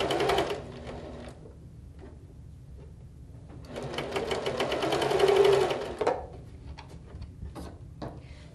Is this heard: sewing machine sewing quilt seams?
yes